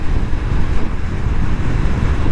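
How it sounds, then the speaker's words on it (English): Strong wind blows outdoors on a hot day, buffeting the microphone with a loud, continuous low rumble that surges and dips. No one speaks. "very windy out."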